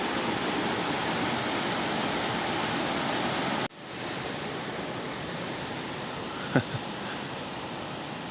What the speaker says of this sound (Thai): ข้างล่างก็จะมองเห็นน้ำตกนี้นะฮะ